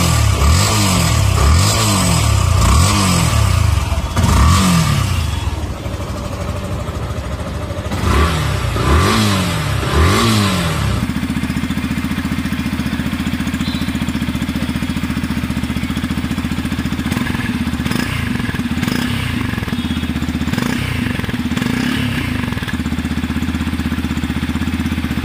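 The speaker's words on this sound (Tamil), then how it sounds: "ரெண்டு வண்டியோட எக்ஸாஸ்ட் நோட் வந்து கேளுங்க எப்படி இருக்கு" A Yamaha FZ motorcycle revs hard several times in loud bursts, then settles into a steady, throaty idle with a few more blips near the end.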